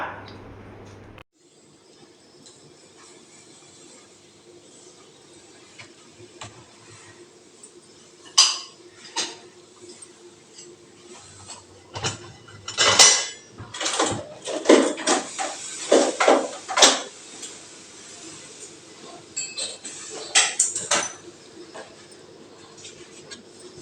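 Dishes and pots clink and clatter in a vessel-cleaning machine, a cluster of sharp metallic knocks, loudest in the middle, over a low steady hum.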